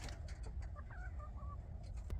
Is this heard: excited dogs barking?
no